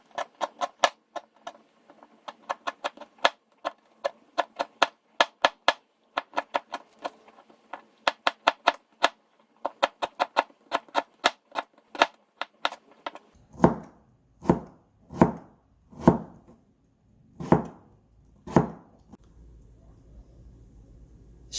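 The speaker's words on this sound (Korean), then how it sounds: "마늘을 찌는 동안 생강을 썰겠습니다" Ginger sliced with a knife on a cutting board, a long run of quick, crisp, evenly paced chops close up, followed near the end by a few slower, heavier thuds.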